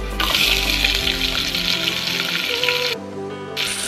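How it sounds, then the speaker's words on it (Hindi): Onions frying in a pan for chana dal khichdi, a loud, close, dense sizzle with a low hum beneath, briefly dropping off near the end before the hiss returns; no one speaks. "प्याज को अच्छे से भून लेंगे।"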